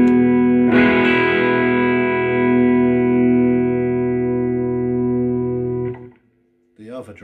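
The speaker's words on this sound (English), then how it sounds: "That overdrive really comes in early." PRS SE Custom electric guitar played through a Klon-clone overdrive pedal, a loud sustained distorted chord ringing for about five seconds before cutting off, then a brief new strum at the end.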